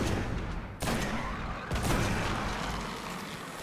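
Gunshots during the Alak-Hul, the Darkblade Nightfall boss fight in Destiny, two distinct shots standing out of a dense, noisy battle backdrop, fairly faint overall.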